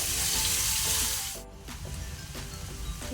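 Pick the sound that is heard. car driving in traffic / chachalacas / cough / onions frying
onions frying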